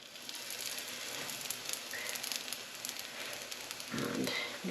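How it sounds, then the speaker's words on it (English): English muffins frying in a pan on low heat give a steady, soft sizzle that runs unbroken throughout, close and fairly quiet, with a brief louder crackle near the end. "So you don't bake English muffins, you fry them."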